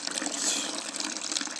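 Beer wort trickles and splashes as it is oxygenated during an all-grain brew of Extra Special Bitter, a soft, steady, fairly faint stream of liquid with no voices.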